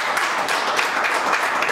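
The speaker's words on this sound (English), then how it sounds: "A big hand of applause." Audience applause welcoming a new school principal at a ceremony, a dense steady wash of many hands clapping from a sizable crowd, sustained and even throughout.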